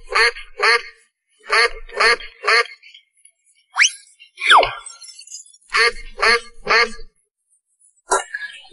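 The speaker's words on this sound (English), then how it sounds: "Duck." A cartoon-style duck quacks in a quick series of nasal calls with short pauses between bursts, loud and close, with a couple of sliding whistle-like tones in the middle.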